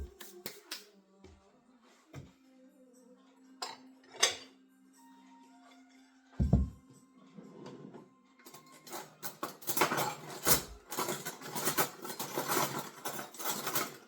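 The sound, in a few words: rummaging through cutlery looking for a spoon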